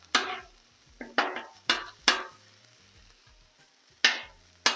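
An Italian beef grilled cheese fries in oil on a Blackstone griddle, with a handful of sharp, short sizzling bursts that fade quickly, separated by quiet moments and some faint low clatter.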